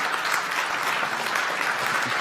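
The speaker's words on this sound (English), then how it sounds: "just a round of applause for Larry" An audience at a museum talk gives a steady round of applause, with full, continuous clapping from many hands and no talking over it.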